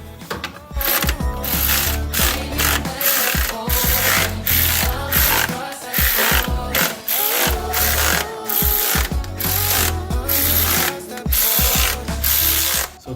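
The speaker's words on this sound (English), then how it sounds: "Tighten these in a cross pattern." A hand ratchet clicks rapidly and loudly in repeated bursts while tightening transmission pan bolts on a 1999 Mazda B2500 pickup, close up with brief pauses between bolts.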